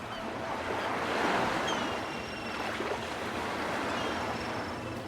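Furious sea waves crash continuously in the video game Mecharashi, a steady loud surf roar with a thin whistling tone drifting above.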